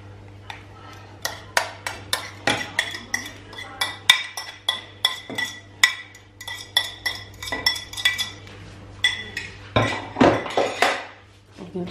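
Spoon or whisk clinking against a bowl while banana crepe batter with banana puree is mixed, a steady rhythm of sharp close taps and scrapes with little else around.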